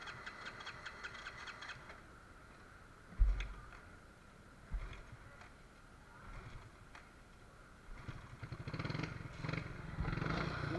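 A Yamaha Mio scooter, after stalling from hard revving, with a low engine rumble idling in the background, a couple of loud thumps, and the engine noise building toward the end.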